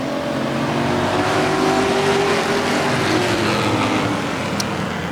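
Race cars roar around the track during a heat race, a loud, sustained engine drone that stays steady and close for several seconds with no break.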